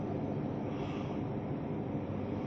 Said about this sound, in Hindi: वो देखो वो हेलीकॉप्टर जा रहा है